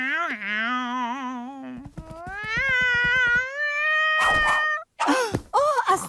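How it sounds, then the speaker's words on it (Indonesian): Cartoon cats from The Loud House sing in loud, wavering, tuneful meows and yowls, with sustained pitched notes sliding up and down, then a few shorter strained cries at the end. "kucing bernyanyi."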